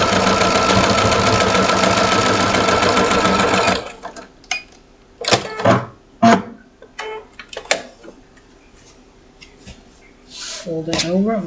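Sewing machine running steadily as it stitches a quarter-inch seam allowance, a loud, continuous rapid whir for about four seconds, then it stops, leaving scattered handling clicks and rustles of fabric.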